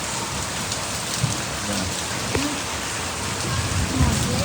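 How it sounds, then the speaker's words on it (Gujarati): Heavy monsoon rain pours down steadily on a rainy morning before a bus trip, a dense continuous hiss of drops on surfaces with no pauses, close and loud throughout. "આજે વરસાદ છે ધમધમાટી."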